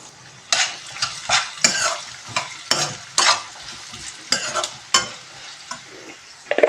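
Finely chopped onions sizzle in a pan for egg curry while a utensil stirs them in repeated bursts, with scraping and clinking against the pan between quieter stretches.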